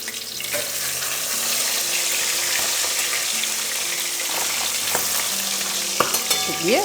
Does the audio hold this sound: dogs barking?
no